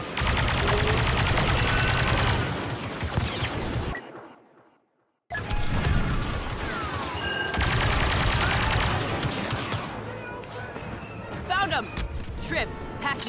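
Sustained blaster-style gunfire fills a Star Wars Battlefront 2 battle on Xbox Series S, loud and continuous with explosions and whooshes, broken by one brief silent gap, while voices talk over the combat.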